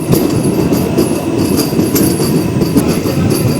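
A MEMU commuter train rolls into Kaldari station, wheels rumbling and clacking loudly over the rails with faint squeals as it brakes toward a stop, heard from on board.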